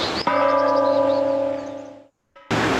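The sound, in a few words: church bell ringing, town Bell of Renewal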